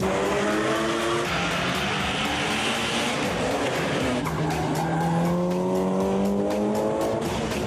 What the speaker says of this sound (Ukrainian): Мегадрайв, висока швидкість, підтримка вболівальників і аромати паленої гуми в повітрі.